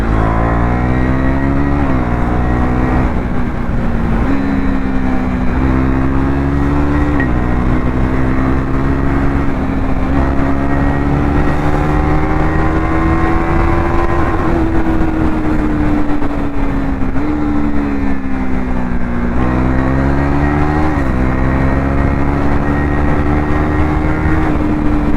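A KTM Duke 390 BS6 motorcycle runs hard on a highway, its loud engine note climbing and dropping through gear changes, with the roar of the wind steady underneath and no talk.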